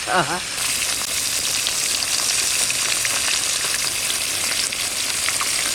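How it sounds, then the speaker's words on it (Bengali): Pieces of rohu fish fry in hot oil in a pan, giving a loud, steady crackling sizzle that fills the whole stretch, with a brief spoon-like tapping right at the start. "খুব কড়া কড়া করে মাছটা ভাজবো না হালকা ভাজবো"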